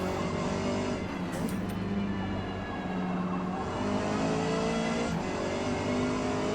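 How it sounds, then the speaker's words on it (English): Race car engines and tire scrubbing from soft-compound tires in a Forza Motorsport multiplayer qualifier race, a steady loud drone of engine tones with a continuous gritty hiss from the tires, heard alone without talk. "Probably this tire scrubbing, what you hear, is not helping our cars"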